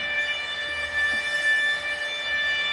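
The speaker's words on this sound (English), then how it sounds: "What have you got a siren on for?" A siren wails steadily at moderate loudness, its sustained tone holding for a few seconds with no speech over it.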